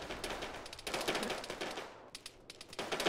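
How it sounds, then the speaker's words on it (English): Machine gun fire in ARMA 3 crackles in rapid bursts at a moderate distance. One long stutter of shots is followed by a short pause and then more scattered rounds. "We got some machine gun or some tracers coming from the northwest"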